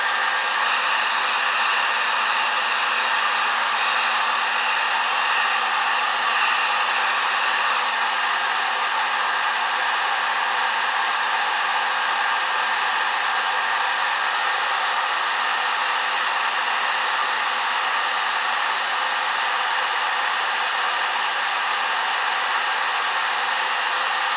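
A heat gun blowing hot air onto the screen of a Moto Edge 2021 phone during a screen and battery replacement, a loud, steady, unbroken whooshing drone held for the full stretch with no speech.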